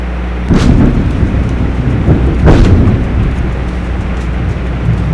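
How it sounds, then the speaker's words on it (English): A loud thunderstorm rumbles steadily with rain, and two heavier thunder cracks roll through near the start and middle before settling back into a deep continuous roar. "that's thunder literally knocking on my door"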